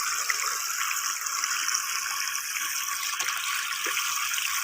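Water runs hard from a tap fed by a freshly repaired DC water pump at good pressure. A steady, close, full-bodied gush continues without pause and with no voices.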